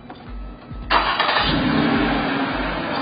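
A 2012 Toyota Venza is started with its push button: a short starter crank, then the engine catches at once and settles into a steady, close idle.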